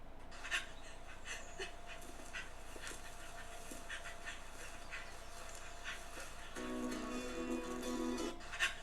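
A dog panting while playing fetch in an AI-generated clip: steady, breathy panting bursts repeat throughout at a moderate level with no one talking, growing a little busier near the end.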